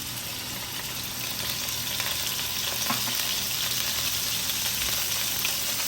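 A big scoop of garlic sizzling in hot oil in a wok, a loud, even hiss and crackle close by, growing slightly stronger as it is stirred.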